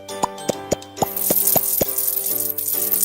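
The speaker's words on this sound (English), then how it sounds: "Pop the bubbles." Bubbles popping in a kids' superhero dress-up bath game, heard as six or seven crisp, evenly spaced plops followed by a soft, fizzy bubbling wash with light chimes.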